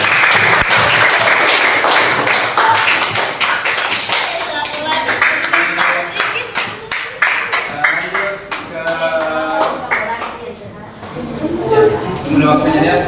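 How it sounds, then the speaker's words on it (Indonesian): Audience applause in a classroom teaching-performance assessment for an Islamic Qur'an and Hadith teacher programme: dense clapping with sharp taps through most of the stretch, thinning toward the end as voices speak over it. "aplaus dulu untuk kita semua"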